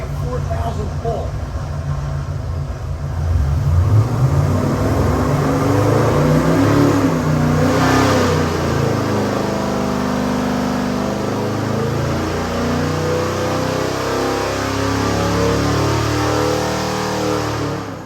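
An LS3 427ci stroker crate engine in a 1967 Chevy Camaro revs on a dyno pull, rising from a low rumble to a loud, sustained, climbing roar that holds high, with brief speech near the start.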